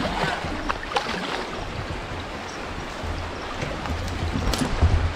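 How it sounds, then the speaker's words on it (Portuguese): A strong river current rushes steadily at a riverside camping and fishing spot, with broad, continuous close-up water noise and no voices. "Olha que água forte."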